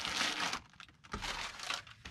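Filler paper being crumpled by hand while packing an order, loud crinkling bursts in two long rounds with a short lull between, close up and alone.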